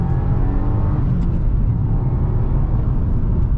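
A 2022 Subaru WRX with a 2.4 litre engine pulls hard in second gear at full throttle, a loud, steady, low engine drone with a rising harmonic whine heard from inside the cabin.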